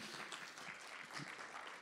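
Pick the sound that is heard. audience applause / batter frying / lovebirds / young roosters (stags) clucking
audience applause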